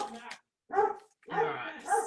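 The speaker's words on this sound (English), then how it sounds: "the dog's barking" A dog barking indoors in a home, with several short, sharp barks and yips in quick bursts close by, mixed with a voice in the background.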